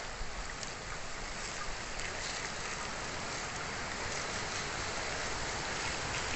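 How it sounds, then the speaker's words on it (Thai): Strong wind roaring steadily through a dry forest, a loud, constant broadband rush with no voices. "โอ้ลมแรงมาก"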